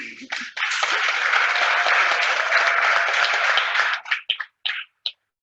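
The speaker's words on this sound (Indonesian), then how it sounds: "Boleh tepuk tangan?" Church congregation applauding during a Sunday morning service streamed over Zoom: a dense burst of clapping holds steady for several seconds, then breaks into a few scattered, fading claps before stopping.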